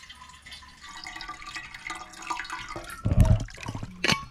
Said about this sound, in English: The water just naturally pours out of the ground right here, pools up, and then starts to flow.